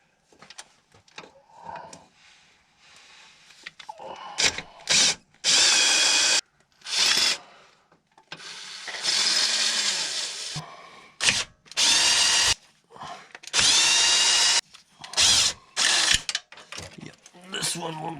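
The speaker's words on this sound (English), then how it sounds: "This one will go with the drill." Power drill working bolts loose on a BMW N13 engine while changing the oil pump chain on an F20/F30, loud bursts of whirring and ratcheting in repeated stop-start spurts, with brief quiet gaps between.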